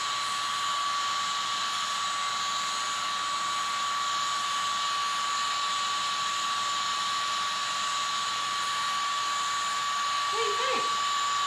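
A cordless Oneisall pet grooming vacuum runs with a steady, continuous motor whir and high airflow hiss throughout, close and even, while grooming a mini goldendoodle.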